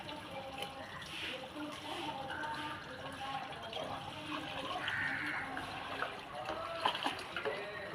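Diluted buttermilk water streams onto the soil of a potted tomato plant. The gentle, continuous trickling and pouring stays soft and close throughout.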